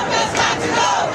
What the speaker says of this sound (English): Crowds gathering in Chicago,